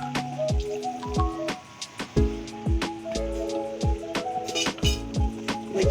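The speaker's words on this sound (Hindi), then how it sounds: "अब इसमें हल्का सा पानी डालेंगे" Water poured into achari keema in a pan: a run of dripping, splashing spills with sharp clinks and pops, fairly close and steady for about six seconds.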